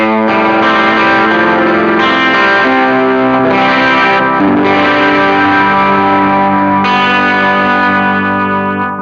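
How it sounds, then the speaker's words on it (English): Guitar played through a NUX Mighty Plug amp modeller with reverb and the compressor last in the chain, giving a dense, loud, sustained tone with continuous chord playing and no pauses. "If we put the compressor as the last thing, it kind of ruins the whole sound."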